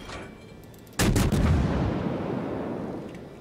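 A Mogami cruiser's naval guns in World of Warships fire a sudden loud broadside that booms out, then fades into a long rumbling decay.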